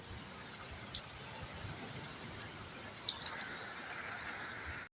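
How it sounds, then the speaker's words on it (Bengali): Rain falls steadily outdoors, a faint even hiss with scattered drips and light taps, distant and quiet, cutting off abruptly at the end. "দেখতেই পাচ্ছ এখন বৃষ্টি পড়ছে।"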